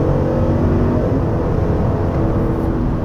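Chevrolet Tahoe V8 under acceleration gives a steady, dense midrange drone, a smooth continuous engine roar heard from inside with road noise mixed in.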